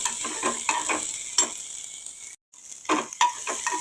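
Food frying gently in oil over a low flame, soft intermittent sizzles and light stirring clinks that come in bursts, with a brief drop to silence midway, close and fairly quiet.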